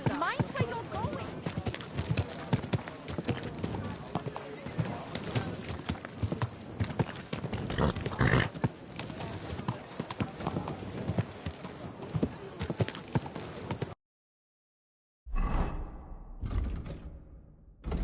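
Horse hooves clip-clop steadily in the medieval video game Kingdom Come: Deliverance 2, a continuous rhythmic gait mixed with ambient game sounds, cut by a short silence before the sound resumes.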